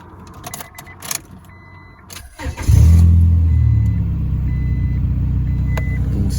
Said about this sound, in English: I'm gonna get a little startup clip for you guys of this car with the headers, brand new cat, and the Spec tuning cat back.